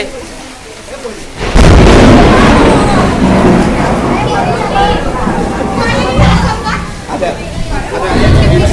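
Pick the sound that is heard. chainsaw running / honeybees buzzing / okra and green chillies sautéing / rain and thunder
rain and thunder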